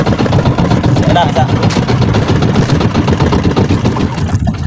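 A boat engine idles steadily and loudly up close, a continuous low rumble, while people talk over it.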